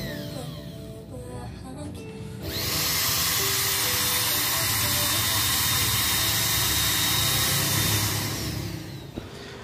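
A Makita 9553B angle grinder on test: after a few seconds of low background noise the motor kicks in with a loud, steady high-pitched whine, runs evenly for about five seconds, then begins to wind down.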